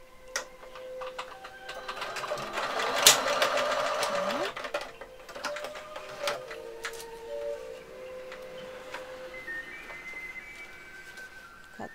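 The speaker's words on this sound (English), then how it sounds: "So I go with my sewing machine, just go reverse and come back." A domestic sewing machine stitches a protective cover for surgical use, running forward then reversing in short bursts of rapid, rattling clatter with quieter pauses between runs.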